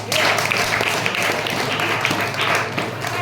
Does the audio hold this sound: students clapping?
yes